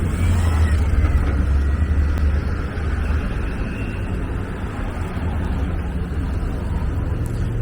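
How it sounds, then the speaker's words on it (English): An M34 city bus drives along 34th Street in New York, a loud low engine rumble mixed with traffic and wind noise that swells and then eases as it passes. "Here's the M34 bus."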